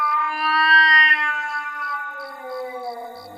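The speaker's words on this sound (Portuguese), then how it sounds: "o gato ergueu-se, eriçou o pelo e soltou um miado alto e forte" A cat, fur bristling, lets out a loud, strong meow, one long drawn-out wailing call that slowly falls in pitch, close and clear with no other sound.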